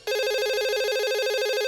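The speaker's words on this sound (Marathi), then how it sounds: "फोन वाजायचा बंद झाला वाटतं" A telephone rings with a steady electronic warbling tone. It sounds loud and continuous for nearly two seconds, with no voices.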